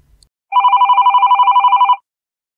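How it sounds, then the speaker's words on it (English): An incoming call rings on an Ekiga softphone connected through Asterisk: one loud, close electronic ring burst of about one and a half seconds with a fast warbling pulse, then silence. "So I run this command, and I instantly have an incoming call."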